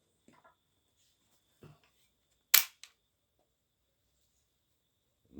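A single sharp crack from an air rifle fitted with a Crosman 4x scope, fired outdoors at dusk toward a target 50 yards away, stands out in near silence. A short echo follows, with faint clicks and handling noises around it.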